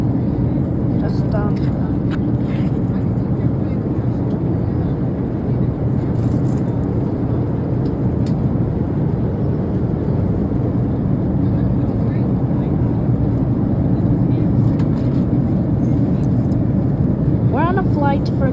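Steady, loud engine roar fills an Alaska Airlines airplane cabin in flight, a constant low drone with faint cabin sounds and no break throughout.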